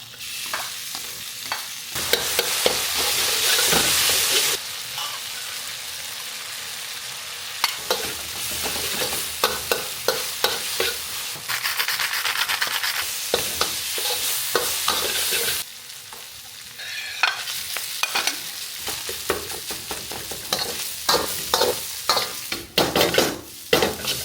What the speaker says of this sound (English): I'm gonna make an adobo fried rice because Papa has some adobo and I'm gonna cook it up.